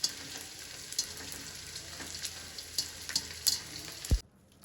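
Small pieces of edible gum (gund) fry in hot ghee with a steady, fine crackling sizzle and scattered sharper pops, fairly soft throughout, before a brief knock and sudden quiet at the end.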